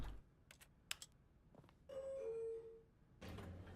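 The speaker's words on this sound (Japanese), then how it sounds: "ピンポン。 エレベーター。" A two-note elevator arrival chime from the video game The Stanley Parable rings clearly for about a second amid quiet game ambience, preceded by soft clicks and followed by a burst of noise.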